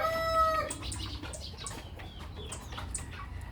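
A hen with a broken leg clucks softly and repeatedly, close by, with short chirpy calls over a steady low background hum.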